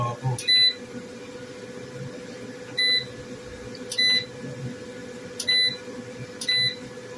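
Zenix PV 6500 inverter beeping during settings adjustment: short, bright electronic beeps at irregular intervals, some doubled, over a steady background hum.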